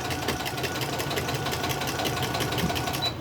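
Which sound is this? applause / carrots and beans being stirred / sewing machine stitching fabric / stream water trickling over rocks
sewing machine stitching fabric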